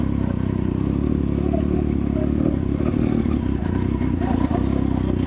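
Steady engine drone of a motorcycle carrying a child on a ride, continuous and fairly loud with road clatter throughout, no talk.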